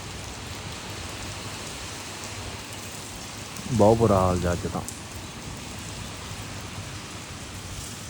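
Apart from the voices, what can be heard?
rain falling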